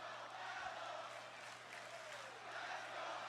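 A wrestling arena crowd during a United States title match cheers and roars as a steady, wide wash of noise, heard at a distance and fairly faint.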